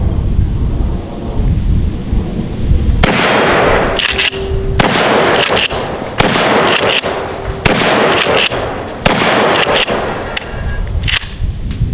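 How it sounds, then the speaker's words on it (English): Remington Tac-14 shotgun fired repeatedly outdoors, about seven loud sharp blasts at irregular intervals, each followed by a booming echo, with no talking. "Okay, let me try this Remington, okay?"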